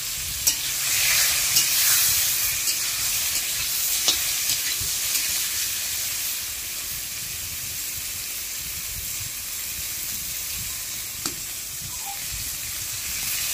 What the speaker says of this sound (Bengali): তারপর আলু এবং বেগুন সবগুলো তেলে দিয়ে দেব, ভালো করে ভেজে নেব।